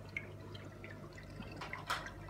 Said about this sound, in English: there's quite a lot of surface area agitation, which is great for oxygenating the water